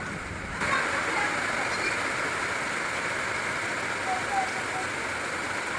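Steady rain pours down in a constant dense hiss that starts abruptly and continues evenly throughout.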